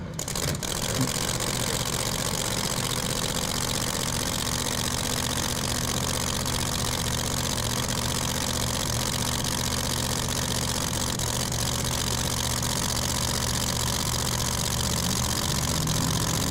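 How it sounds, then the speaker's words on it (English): A supercharged 1987 Buick drag car sits in the lane at a drag racing event, its engine a loud, constant rough idle with heavy low rumble and crowd noise around it throughout. "And here comes the Buick. Chad Henderson over there in the left lane, the 87 model Buick. Supercharged and all, right there."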